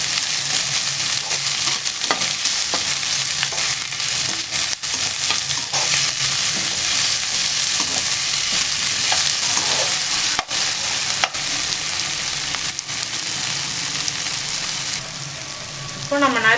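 Chopped green chili and tomatoes sizzle in a hot pan for semiya kichadi, a continuous frying hiss broken by scraping stirs of a spoon, close and loud with no talk.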